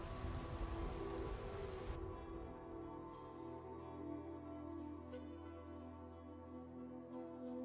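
Steady rain falls in the open world of Skyrim, a dense, even hiss with a low rumble beneath and occasional faint drop ticks, continuing alone with no voices.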